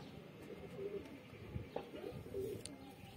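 A young pigeon coos softly in a few low, brief murmured calls against a steady outdoor background hum, with faint rustling in between.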